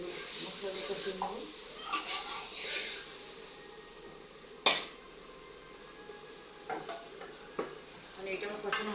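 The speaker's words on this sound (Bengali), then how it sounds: "মশলা কষিয়ে নেব।" Spice paste of ground chili, turmeric, coriander and a splash of water is stirred and sautéed in a pan, with soft sizzling, scraping strokes and sharp utensil knocks against the pan while a person talks.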